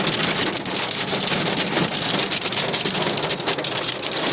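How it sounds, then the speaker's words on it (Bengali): Hail hammering a parked car in a strong hailstorm in Saudi Arabia, a close, relentless roar of pelting impacts on the body and glass that stays loud and even throughout. "প্রচুর শিলাবৃষ্টি হইতেছে সৌদি আরবে, প্রচুর শিলাবৃষ্টি।"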